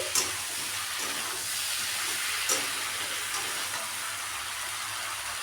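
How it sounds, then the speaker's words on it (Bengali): Chopped Malabar spinach (pui shak) is added bit by bit to a hot pan, making a steady hiss and sizzle with two brief sharper bursts as handfuls drop in, and no talking. "শাকটা অল্প অল্প করে এর ওপর দিয়ে দিচ্ছি"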